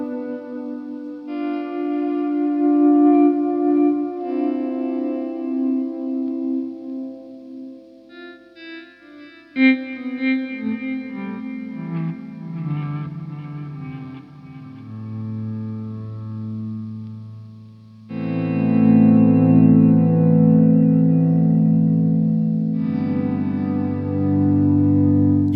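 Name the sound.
ambient guitar volume swells through delay and reverb pedal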